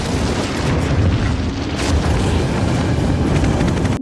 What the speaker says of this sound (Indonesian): Parker meledakkan The Locker.